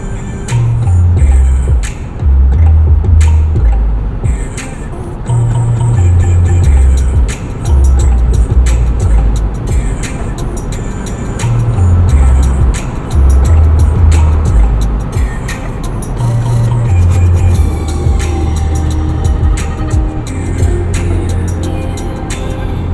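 Steady road and wind noise fills the cabin of a 2019 Jeep Wrangler Unlimited Sahara 4x4 while it drives, a constant rumble and rush with low engine swells that rise and fall at a moderate level throughout.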